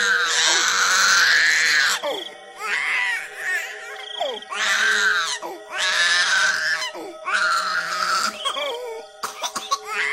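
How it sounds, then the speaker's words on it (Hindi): A hungry baby cries in loud, drawn-out wails broken by short gasps and pauses, close and intense, with brief catches between bursts and no talking. "दूसरी तरफ बच्चा भूख से रोने लगता है"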